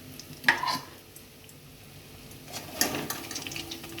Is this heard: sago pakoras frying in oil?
yes